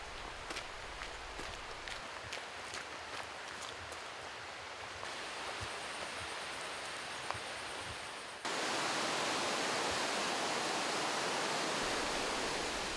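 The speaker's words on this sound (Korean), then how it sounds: "시원한 단골 계곡의 물소리가 땀을 식혀준다" A mountain stream in a valley on Taebaeksan flows steadily, with a continuous broadband rushing of water that grows louder and fuller midway through. There is no speech.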